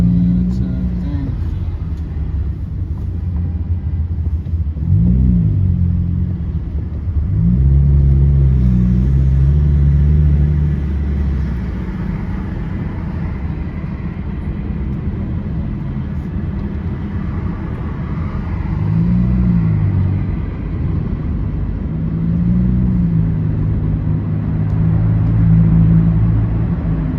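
Straight-piped car exhaust revving inside a tunnel, deep booming rumbles swelling in several bursts over a steady low drone, loud and close with echoing reverberation.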